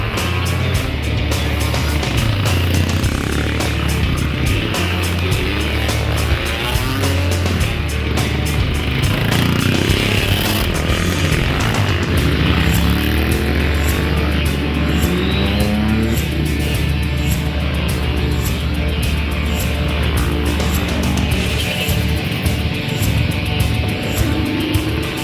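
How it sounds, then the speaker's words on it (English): Motorcycles ride past in a festival parade, a steady loud rumble of engines with shifting revs and passing bikes throughout, no voices. "One of the highlights of the Motorcycle Festival is the parade of motorcycles taking part in the"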